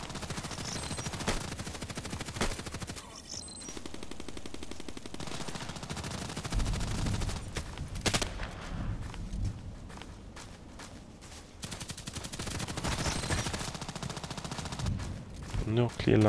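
Gunfire in the Contract Wars video game, fired in quick triple-shot bursts from a semi-automatic weapon, repeating loudly across the clip with footstep sounds between the bursts.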